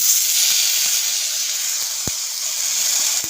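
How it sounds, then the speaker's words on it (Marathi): White sesame seeds and a filling sizzling in hot oil in a pan: a steady, bright hiss runs throughout, with a few faint pops and crackles, close and unbroken by speech. "तेल पण छान गरम झालं आहे आता थोडंसं पांढरं तीळ ॲड करूया"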